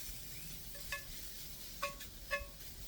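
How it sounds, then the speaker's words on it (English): Oyster mushrooms dry-sauté in a pan with a faint, soft sizzle, broken by three brief clinks of a utensil against the pan. "with this dry saute is we're just trying to get off most of the moisture out of the mushrooms"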